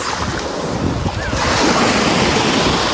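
Sea waves roll onto a white-sand beach in Bohol, a steady, loud wash of surf with wind buffeting the microphone, growing fuller and more continuous partway through.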